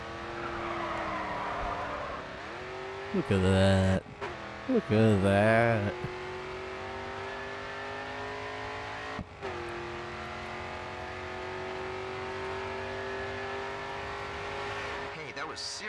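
A race car in the video game GRID 2 drones at full throttle, with two bursts of squealing tires as it drifts, then a steady engine pitch down the final straight; a voice exclaims excitedly over it.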